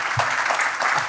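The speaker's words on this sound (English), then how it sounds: "big round of applause for Marco" Applause from an audience at a Dire Straits Legacy event, a steady dense clatter of many hands clapping close by, held for the whole moment with no voices over it.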